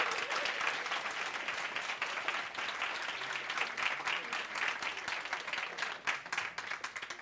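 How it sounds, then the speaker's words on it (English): Theatre audience applauding the session's speakers, a sustained burst of dense clapping from a sizable crowd at moderate volume, slowly thinning toward the end with no speech over it. "I would ask that we all once again give our amazing speakers a huge round of applause."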